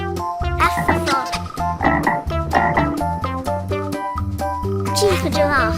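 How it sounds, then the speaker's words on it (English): Cartoon frog croaking in an alphabet animal-sounds song, with repeated croaks over a steady, loud musical backing with sung vocals. "F for frog."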